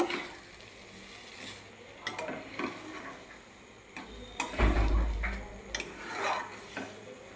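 Semolina halwa with ghee stirred in a metal pan, a spoon scraping and knocking against the pan in irregular close strokes, with a louder burst of scraping midway and no talking.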